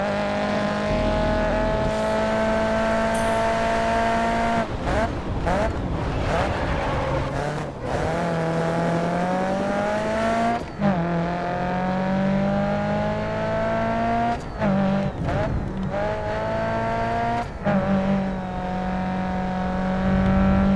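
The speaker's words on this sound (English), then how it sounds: "I can hear the car in its full potential." A race car engine in the video game Grid Autosport drones loudly and continuously, its pitch rising through the gears and dropping at shifts, with brief bursts of tire or impact noise.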